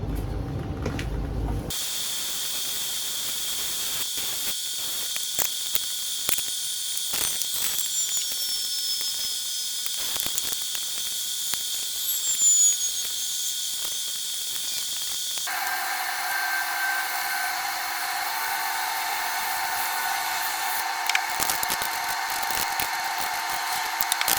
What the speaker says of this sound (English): now we're gonna just heat gun it on the top to bring those things to light